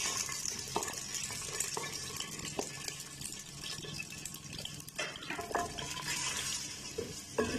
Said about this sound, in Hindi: प्याज को जो है वो हल्का गोल्डन होने तक हमने जो है वो फ्राई करना है।